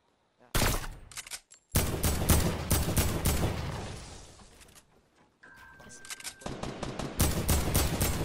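Rapid automatic gunfire from a Fortnite match crackles in dense, loud bursts, dropping out briefly twice before resuming in heavy volleys, with a player's voice occasionally heard underneath.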